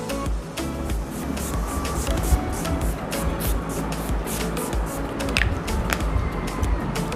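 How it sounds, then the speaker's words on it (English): Makeup setting spray misted onto a face in a quick series of short, close, hissing spritzes, evenly spaced over a low room background. "Now I'm just gonna spray my face."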